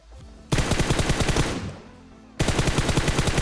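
Rapid automatic gunfire in PUBG Mobile comes in two loud, sustained bursts separated by a short lull.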